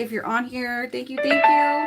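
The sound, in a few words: doorbell chime alert for a new livestream order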